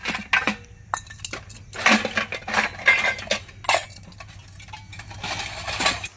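Two bowls and two spoons are handled close by in a home kitchen, with repeated clinks, clatters and metallic taps in irregular bursts, without voices.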